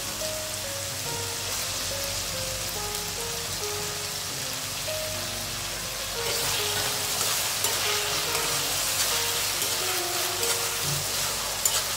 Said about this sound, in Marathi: हे छानपैकी असं परतून घ्यायचंय. यात टाकणार आपण बारीक चिरलेला टोमॅटो